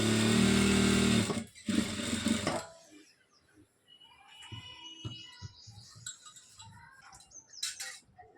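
A sewing machine stitches the half-inch double-folded bottom hem of a chudidar top. It gives a loud whirring run, a short pause, then a second brief burst, followed by quieter fabric handling and clicks.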